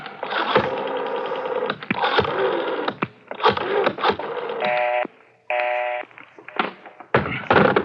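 A telephone is dialed in an early-1950s police radio drama. A run of short tonal bursts mixes with clicks and thunks, close and fairly loud, with brief gaps between the digits.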